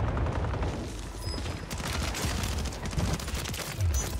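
Rapid bursts of automatic gunfire from the DG gun in a shooter video game, dense repeated shots in quick volleys, fairly close and sharp, running through the whole stretch.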